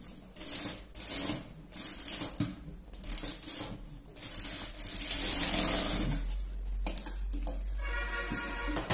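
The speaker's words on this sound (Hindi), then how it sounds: "अंदर की साइड में सिलाई चलानी है।" A sewing machine stitches net sleeve fabric in a close, steady mechanical whirr with rapid repetitive needle clatter, rising in speed midway and ending in quicker runs.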